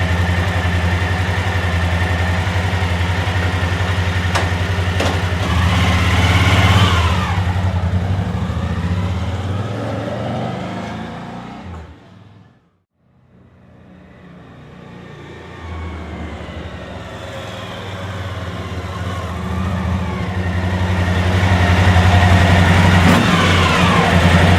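Steady, loud engine drone of a Suzuki V-Strom DL1000 motorcycle held around 2500 RPM while riding through a neighborhood, fading briefly midway before swelling back to full strength.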